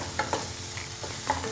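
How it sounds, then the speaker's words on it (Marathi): Spice masala roasting in oil for a drumstick fry, with a few soft scraping stirs over a low, steady sizzle, close and fairly quiet. "आता आपण हा मसाला तेल सुटेपर्यंत भाजून घेऊया."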